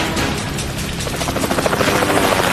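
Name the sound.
helicopter flying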